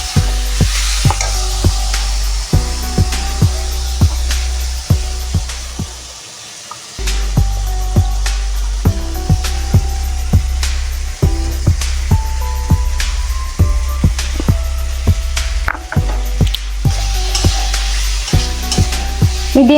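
Spices with chili powder stirred and fried in oil over medium heat for a tomato fish curry: steady close sizzle with repeated scraping strokes of a spoon against the pan, a short quieter pause midway.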